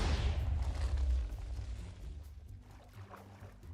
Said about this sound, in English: possibly the single biggest explosion so far